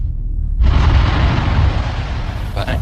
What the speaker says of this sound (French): Là-bas, une autre explosion.